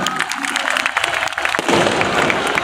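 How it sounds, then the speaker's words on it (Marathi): An audience at a public festival event applauding a minister, brisk clapping that swells into a loud, dense burst of applause and cheering partway through. "त्यांच्यासाठी जोरदार सगळ्यांनी टाळ्या वाजवा"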